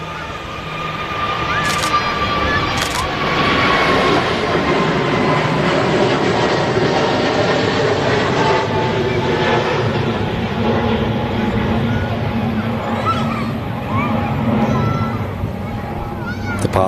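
A TAP Air Portugal Airbus A321neo jet roaring steadily during departure from Manchester Airport, a broad sustained engine rumble with a faint whine, heard from an outdoor spotting position with voices talking over it.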